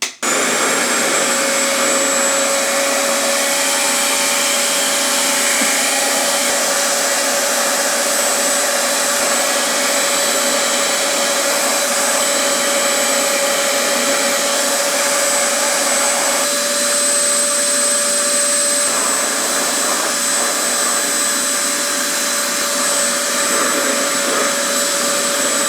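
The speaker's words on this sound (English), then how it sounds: "I'm actually going to increase the speed to about 4 and see if that dries it faster." A Revair reverse hair dryer runs at a higher speed setting with a steady, loud, constant whoosh and high whine, unbroken throughout with no voices.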